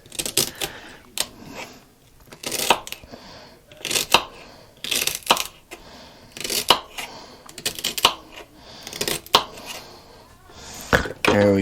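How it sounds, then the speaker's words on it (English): Knife slicing minced-meat ingredients thinly on a cutting board: repeated sharp, crisp chops in quick irregular bursts, close and fairly loud, with occasional soft speech around them. "Just going to cut it real thin."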